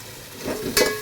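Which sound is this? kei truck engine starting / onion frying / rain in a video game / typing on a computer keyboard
onion frying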